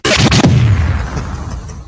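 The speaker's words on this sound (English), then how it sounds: "Give me an explosion." A loud explosion sound effect hits at once with a sharp blast and a second burst, then a deep rumble that decays slowly over the rest of the clip.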